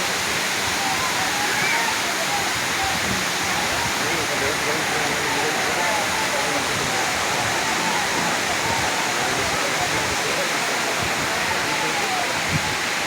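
A waterfall in the Ajodhya hills of West Bengal roars in a constant, loud, unbroken rush, with someone talking over the water throughout.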